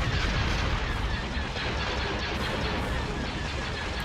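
Rapid volleys of laser fire from a space battle in the strategy game Star Wars: Empire at War, a dense, continuous crackling barrage with booming impacts, loud and steady throughout with faint voices mixed in.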